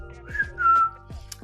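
A person whistles a short tune, a few rising and sustained notes over about a second, close and fairly loud, with no talk.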